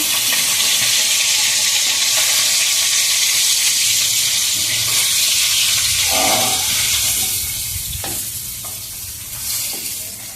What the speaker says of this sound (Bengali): মাছগুলো তুলে দিচ্ছি, হালকা ভাজা হয়ে গেছে।